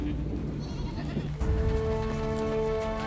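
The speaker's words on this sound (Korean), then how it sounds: "마지막으로 양과 염소 같은 작은 동물들이 따릅니다." Sheep and goats bleat during a Mongolian nomad migration over snowy mountains, with harmonic calls rising over a steady rumble of wind and movement, one clearer bleat starting midway.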